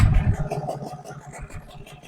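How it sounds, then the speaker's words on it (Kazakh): A HANGKAI 6.0 outboard boat motor, warmed up after about an hour of running, chugs close by with a rough, pulsing mid-pitched rhythm that is loud at first and then eases slightly. "мотор 1 сағаттың көлемінде жұмыс жасады"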